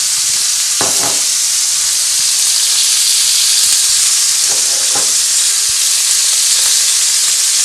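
Food sizzling loudly in a pan of butter and ghee while being basted, a constant bright hiss with a few spoon scrapes and bubbling pops.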